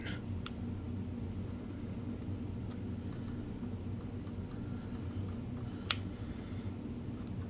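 A couple of small, sharp mechanical clicks, far apart, from cocking the hammer of a Tokyo Marui SAA .45 Artillery toy revolver, barely rising above a steady low background hum.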